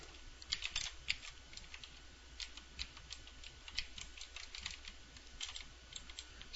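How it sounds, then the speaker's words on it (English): Fingers type on a computer keyboard in quiet, uneven bursts of crisp key clicks with short pauses between runs, close and alone without speech. "Start over with the typing."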